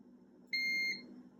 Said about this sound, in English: And the beep lets me know that I have continuity